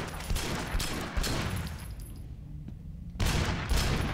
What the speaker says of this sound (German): Das Schießen ist echt nicht so geil.